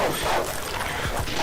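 Dog barking in Call of Duty Modern Warfare 2 video game: a few short, sharp yips and barks at moderate distance over busy in-game noise.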